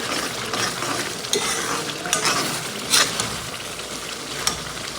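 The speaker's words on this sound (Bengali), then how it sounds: "একদম সুন্দর মশলা কষানো হচ্ছে" Spice masala with salt is stirred and fried for chicken curry, a loud, dense sizzle with a constant scraping of the spatula and occasional metallic clinks against the pot.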